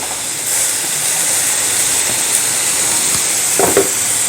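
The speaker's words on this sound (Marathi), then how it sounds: "आता हे मिक्स करून घेऊया आणि एक मिनिटभर छान या भाज्या परतून घेऊया" Mixed vegetables such as cabbage and tomato being stir-fried in a pan: a continuous bright sizzle and hiss, with a few soft scraping stirs near the end and no voices.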